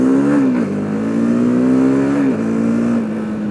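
Honda CBR 150R motorcycle, 2021 batch with the K45R engine, revving steadily at high rpm with a loud, close, continuous engine drone that dips briefly twice before climbing back, no talking.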